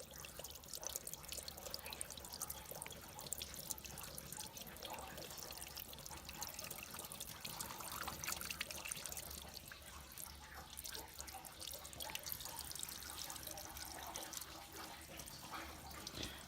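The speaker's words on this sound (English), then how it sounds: "these corners drain quite a bit, so just give it some time." Water draining from the engine block corner drains of a PCM ZR 409 6.0L marine engine while it is winterized, a faint, steady trickle with light dripping that runs on throughout without talk.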